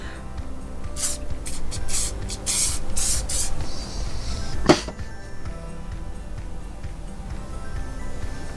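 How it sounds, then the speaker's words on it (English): Several short hissing bursts of an aerosol spray onto a face in quick succession, close by, followed by a single sharper spray and then quiet background. "I'm going to spray my face a bit more before braving outside."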